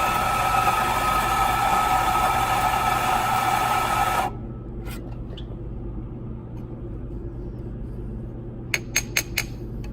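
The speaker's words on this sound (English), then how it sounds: "Do a double shot for the espresso." An espresso machine drones loudly while pulling a double shot, then its pump cuts off, leaving a low hum, with a quick run of sharp clicks near the end.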